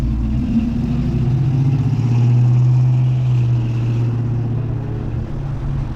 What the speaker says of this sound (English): everyone likes revving up their vehicles going through the circle